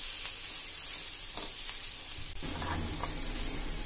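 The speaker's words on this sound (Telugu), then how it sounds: "జింజర్ గార్లిక్ పేస్ట్ బాగా ఆనియన్స్ పట్టుకునేలా కలపాలి. ఒక 2 మినిట్స్ ఫ్రై చేయాలి." Onions frying with ginger garlic paste in a pan, a steady close sizzle with soft stirring scrapes, louder and fuller after a stir partway through.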